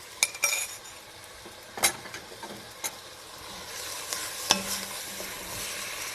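Paste and ceci beans being stirred into a pan on the stove, with soft scraping of a utensil, a few sharp clinks against the pan and a faint sizzle underneath, all close and fairly quiet.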